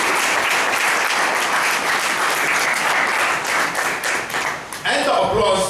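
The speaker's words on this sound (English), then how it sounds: "And the applause must go to Rahul for showing that courage." Sustained loud applause from a crowd, dense clapping filling the whole stretch, with a brief dip near the end before it swells again.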